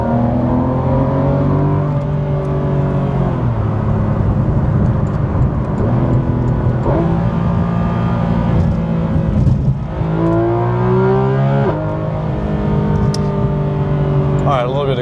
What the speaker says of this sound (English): So if we can hear a little bit of the car.